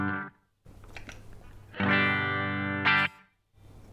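Electric guitar run through a Boss DM-2w delay pedal set for quick repeats, short choppy notes then a sustained bright chord with slapback echoes thickening it, close and clear with no voices.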